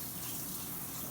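Tap water runs steadily from a faucet over tomatoes being washed in a kitchen, a continuous gushing splash with no talking.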